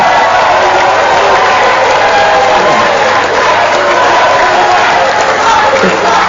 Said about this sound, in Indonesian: kita beri tepuk tangan untuk kedua calon gubernur